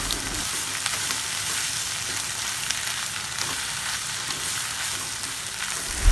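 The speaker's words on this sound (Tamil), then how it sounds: "அந்த முட்டை மசாலும் பரோட்டாவும் நல்லா கலந்து வர மாதிரி வறுத்துக்கணும்" Shredded parotta tossed with egg masala fries in a hot pan, giving a loud steady sizzle with faint stirring scrapes throughout and a knock at the end.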